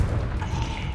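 A Confringo blasting spell explodes in Hogwarts Legacy, a dense low rumbling boom that fills the whole second with sustained crackling energy and no clear pause.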